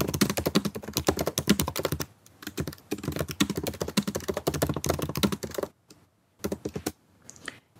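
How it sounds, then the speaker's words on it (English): Steady rapid typing on a computer keyboard, close and clear, runs in continuous bursts with brief pauses and sparser keystrokes near the end; no talking. "So let's type it in."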